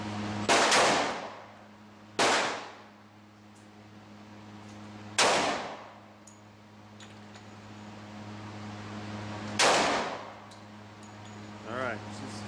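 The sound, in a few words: Glock 20 10mm pistol gunshots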